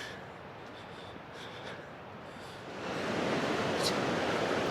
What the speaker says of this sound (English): So there's the river, fast flowing.